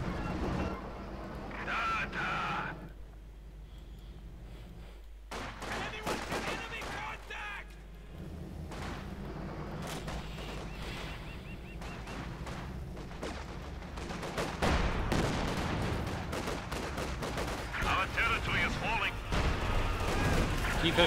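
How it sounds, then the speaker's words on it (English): Soviet T-34/85 tanks in Company of Heroes 2 firing high-explosive shells into German infantry, a busy battle mix of booming cannon blasts and crackling gunfire with dense explosions, a caster talking over much of it. "T-34 firing at 85mm high explosive shells, tearing into the ranks of Germans"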